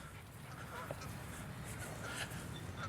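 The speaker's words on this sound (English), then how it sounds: "you're distracted because you hear all the geese" Geese honk at a park, sounding faint and scattered in the distance over a low outdoor background.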